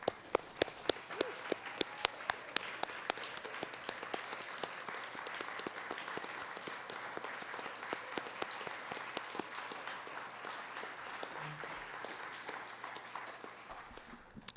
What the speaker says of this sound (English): Little stand up applause, a standing ovation.